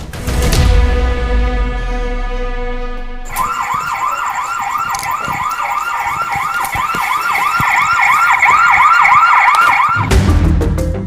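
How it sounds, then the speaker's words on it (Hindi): A CCTV camera's alert sounds during a nighttime paranormal investigation: a loud electronic tone holds steady, then switches to a rapid, siren-like warbling wail that carries on for several seconds with nobody speaking. "ये सीसीटीवी कैमरे की आवाज थी।"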